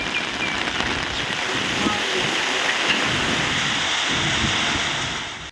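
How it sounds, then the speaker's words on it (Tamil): Heavy rain pours down in Tiruvannamalai, a dense, steady hiss of rainfall on surfaces that stays loud and even throughout, with no speech heard. "அரை மணி நேரத்திற்கு மேலாக கனமழை கொட்டியது"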